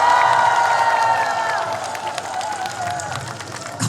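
A large outdoor crowd at the Taean five-day market opening event breaks into loud applause and cheering, the clapping sustained for several seconds and tapering off toward the end.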